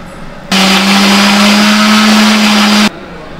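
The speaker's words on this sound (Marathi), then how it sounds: "आणि मिक्सरला आता बारीक पेस्ट करून घ्यायचं." An electric mixer grinder blends roasted coconut, onion, ginger and coriander into a paste, a loud steady motor whine that starts abruptly, runs for a little over two seconds and cuts off sharply, with no talking.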